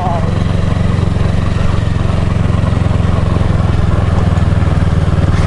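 Kawasaki Versys motorcycle engine running close and loud with a steady pulsing drone, holding an even throbbing note as the bike pulls away.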